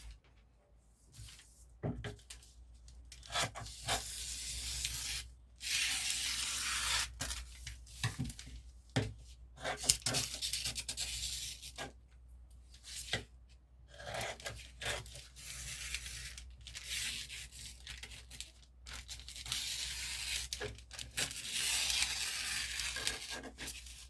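Scissors cut a paper pattern for a bustier gown with a built-up asymmetric neckline, producing repeated crisp snips and long rasping slices, close and fairly loud, broken by short pauses and soft paper rustling.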